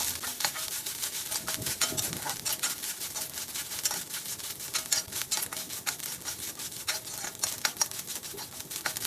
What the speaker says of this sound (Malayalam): ജസ്റ്റ് ഒന്ന് വറുത്തെടുക്കാം.